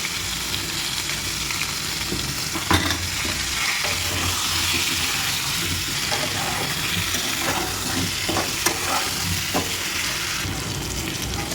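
Potatoes frying in oil with turmeric and salt, left over from frying fish: a continuous loud sizzle, with intermittent scrapes and knocks from stirring in the pan.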